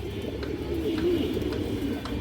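A pure Giribaz pigeon coos softly, a short warbling call rising and falling over a low background hum, close by with no talk.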